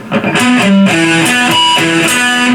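A distorted electric guitar picks a quick arpeggio, some notes palm-muted and clipped short, others ringing out, loud and continuous.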